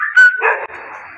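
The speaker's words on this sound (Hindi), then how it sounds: "देख कुत्ता है, देख कुत्ता है नीचे।" A dog barks below in a short, loud burst of a few sharp barks, close and clear, with no talking over it.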